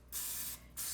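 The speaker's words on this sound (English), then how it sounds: "you still want to spray them with Pam" Pam cooking spray spritzed onto a baking pan in two short hissing bursts, close and clear, separated by a brief pause, with nothing else around.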